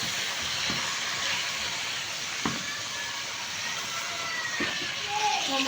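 Chicken seasoned with curry spices and a pinch of turmeric is stirred in a hot pan, giving off a steady sizzling hiss with a few soft scrapes and clicks scattered through it.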